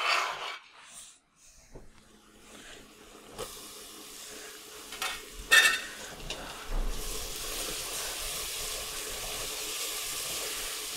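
Carrots hit a pan and start sizzling, a soft hiss rising after a few clunks and settling into a steady, moderately quiet fizz that continues to the end; no talking.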